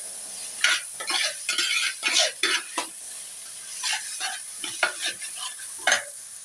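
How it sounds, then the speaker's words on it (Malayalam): Sliced onions and shallots sauté in a pan, with a rapid series of close, irregular spoon scrapes and clinks over a faint background sizzle. "നമ്മളെ സവാളയും ചെറിയ ഉള്ളിയും ഇത് വഴണ്ട് വരുന്നുണ്ട്"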